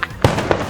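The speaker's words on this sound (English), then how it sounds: "Fireworks are going off behind us." Fireworks go off in the background at the Epcot Food and Wine Festival at Walt Disney World, a few muffled booms and pops over steady crowd noise.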